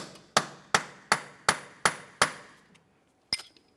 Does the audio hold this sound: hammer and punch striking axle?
yes